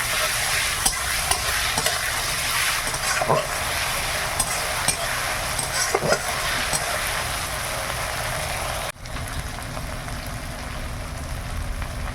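Ginger and garlic paste hits onion and tomato already frying in a pan on a gas stove, producing a dense, steady sizzle close by with intermittent stirring scrapes, dropping to a softer sizzle near the end.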